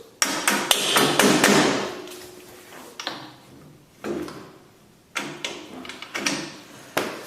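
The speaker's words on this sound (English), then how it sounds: "finish pounding the bolt through" A bolt being hammered through a go-kart engine bracket: bursts of sharp metallic taps and thuds come in irregular clusters, close and fairly loud, with short pauses between them and no talking.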